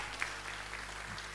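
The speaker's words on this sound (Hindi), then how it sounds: "तो एक बार जोरदार ताली मैं इसको लेकर चाहूंगा।" Audience applause at Ramaera Industries Ltd's first anniversary event in Patna, a faint, steady patter of many hands clapping together throughout.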